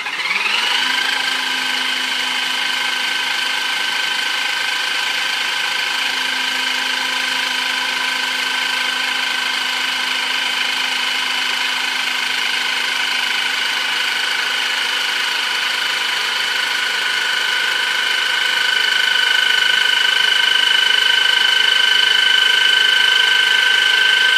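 An electric hydraulic Bramley PB2 pipe bender bending a pipe around a former gives a steady, loud motor whine with a constant pitched hum that holds for the whole stretch and swells slightly toward the end, with no speech.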